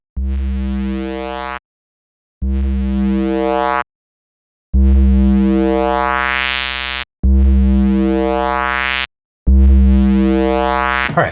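Serum software synth tone processed with distortion and compression: five loud, buzzy sustained notes, each cut off by a short silence, with rich harmonics and a brightening sweep on the middle note.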